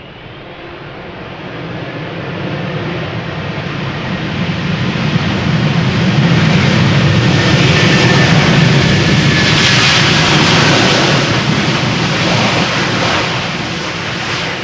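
A large airliner, likely an A330, roars past at Amsterdam Schiphol Airport, a loud broadband jet rumble that swells toward the middle and slowly fades, heard without talk.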